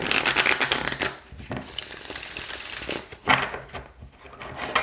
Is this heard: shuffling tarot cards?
yes